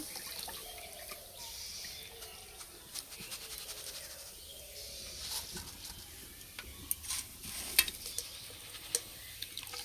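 Flattened rice (chira) frying and being stirred in a pan, a soft, fairly quiet dry rustle and faint sizzle with scattered scraping ticks toward the end, no voices.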